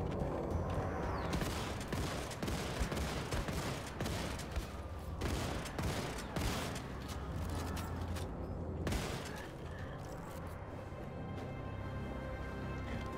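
Shotgun blasts and other gunfire in the video game Wolfenstein 2 ring out repeatedly, sharp loud bursts at irregular intervals over a rumbling, clanking game backdrop.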